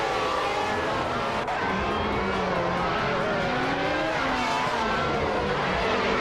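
Screaming engine of a Ferrari 412 T2 Formula One car from the 1995 season in a racing video game on the Marina Bay Street Circuit, loud and continuous with rising and falling harmonics as other cars roar nearby.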